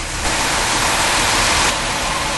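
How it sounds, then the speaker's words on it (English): A flushing truck sprays fresh water from its onboard tank into an underground transformer hole, a loud steady broadband rush with a stronger gush in the middle, no talk. "This is called a flushing truck."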